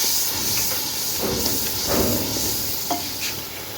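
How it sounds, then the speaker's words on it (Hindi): Meat fries in ghee with spices, giving a continuous close hissing sizzle with a few soft stirring scrapes. "काफ़ी अच्छा अंदर भुन गया, घी छोड़ना शुरू कर दिया उसने।"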